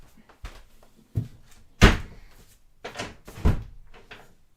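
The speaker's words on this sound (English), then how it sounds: "Oh, the door's still open a little bit." Household door being pushed closed, a series of loud, close knocks and thuds that peak in one heavy bang, followed by a couple of softer knocks.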